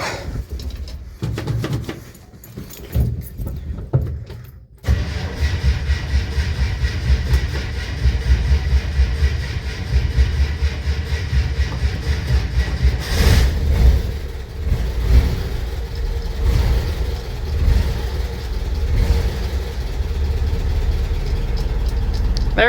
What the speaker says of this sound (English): I like how you can always hear when the oil gets to the lifters on this thing.